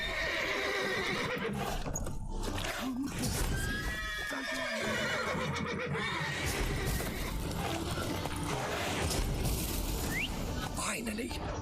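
Horses whinny and hooves clatter in The Witcher 3, loud and continuous, with several neighs over a busy bed of clip-clop and mechanical rattles, while a voice speaks briefly among them.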